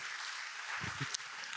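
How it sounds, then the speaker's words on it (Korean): A church congregation at a summer adult retreat applauds in a short, faint, even patter of many hands, heard from a distance, with a brief low murmur partway through. "우리 하나님께 감사 영광의 박수."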